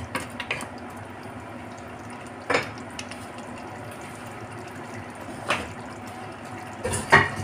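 Mutton biryani ingredients mixed in a pot, soft background clatter and scraping with a few sharper clinks of a utensil against the pot at irregular intervals.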